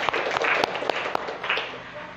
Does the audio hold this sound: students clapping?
yes